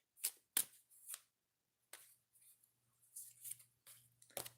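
Oracle cards are shuffled and drawn in quick, crisp bursts of riffling and slapping, fairly close and fairly quiet, with short pauses between handfuls and no talking.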